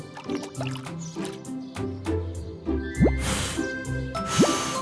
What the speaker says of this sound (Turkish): Baykuş üfleyip baloncuk yapıyor.